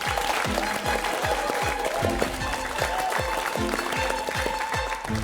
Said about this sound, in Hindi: एक बार जोरदार तालियां नाविद की।